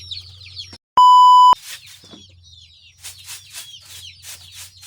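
Chickens cluck and chatter in a steady series of short calls inside a coop, interrupted early by a loud electronic beep tone.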